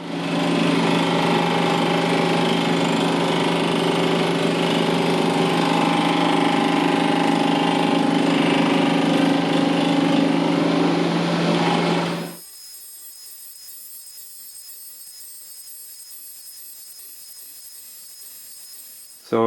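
A Jones and Shipman 540 machine turns down a welded motor part, giving a steady, loud mechanical drone with a strong hum for about twelve seconds before it cuts off abruptly and leaves near silence.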